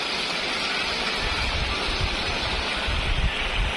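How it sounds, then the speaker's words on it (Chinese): Heavy rain and strong gusting wind roar steadily at a crowded outdoor carp fishing spot in a storm, a dense, loud wash of noise with no speech. "这么大的雨，狂风暴雨啊"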